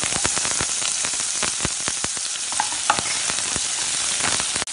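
Finely chopped onion frying in oil with cumin and asafoetida, a loud, dense crackling sizzle punctuated by sharp spattering pops, no voices.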